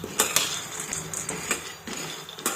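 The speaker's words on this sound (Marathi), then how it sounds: "ज्यावेळेस आपण फुल गॅस ठेवतो त्यावेळेस हे दाणे सतत हलवत राहिले पाहिजेत" Shelled peanuts dry-roasting in a pan over full gas while being stirred continuously, giving close, intermittent clinks and dry rattling scrapes of the spoon against the metal, with no voices.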